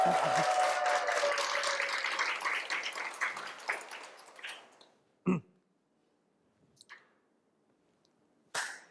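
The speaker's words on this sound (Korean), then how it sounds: "박수 한번 좀 크게 쳐주세요" Applause from an audience fades away gradually over several seconds, followed by a few isolated sharp claps or taps in near silence.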